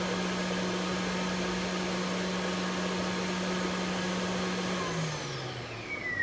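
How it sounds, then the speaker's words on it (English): A floor scrubber's vacuum motor runs as a loud, steady whirring drone, then winds down in pitch and fades as it switches off near the end. "hit your vacuum button to turn off the vacuum"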